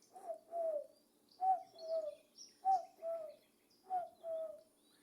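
A small dove, the tortolita, calls in a steady rhythm: four paired coos repeating at even intervals, soft and fairly close, with no voices.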